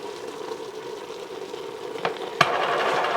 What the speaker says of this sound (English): Now I'm supposed to put flour in and stir and cook it for 2 minutes.